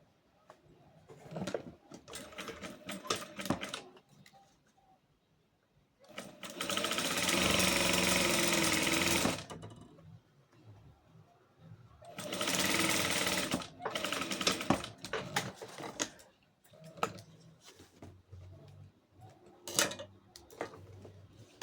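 Electric sewing machine stitching along the fold of fabric bias binding in two bursts, a few seconds of steady rapid buzzing each, separated by quiet handling taps and rustles.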